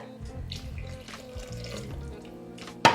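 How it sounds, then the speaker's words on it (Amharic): Water is poured into a cooking pot on the stove, a close, continuous splashing gush that ends with a brief sharp clink of the vessel. "ሌላ ውሃ እንደዚህ ጨምራለሁ"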